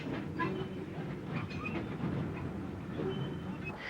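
A Bulleid Q1 steam locomotive passes at Robertsbridge on a UK railway, a steady rolling rumble with rhythmic wheel clatter over the rails, close and continuous, with faint birdsong above.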